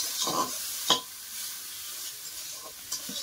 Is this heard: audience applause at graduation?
no